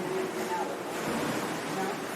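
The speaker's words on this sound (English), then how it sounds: "hear the waves crashing? No, those aren't the waves. That's the pool." Water rushes and splashes in the pool of the Chateau Frontenac hotel in Quebec City, a steady, dense wash like surf crashing that fills the whole space without letting up.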